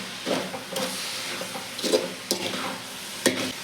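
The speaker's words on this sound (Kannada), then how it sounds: "ಗಸಗಸೆ ಸೇರಿಸಿ ಮತ್ತು ಏಲಕ್ಕಿ ಪೌಡರ್ ಸೇರಿಸಿದ್ದಾದಮೇಲೆ ಒಂದು ನಿಮಿಷ ಚೆನ್ನಾಗಿ ಮಿಕ್ಸ್ ಮಾಡ್ಕೊಳ್ಳಿ" Coconut filling with poppy seeds and cardamom powder being stirred in a pan for holige, a soft scraping and sizzling with several louder stirring strokes, close by, no talk.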